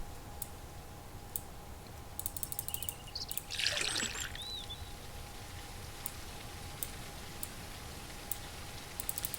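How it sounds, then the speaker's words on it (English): Rain falling in the survival game Mist Survival, a faint steady patter with scattered drips and clicks, quiet and continuous with no talking. "I hear rain."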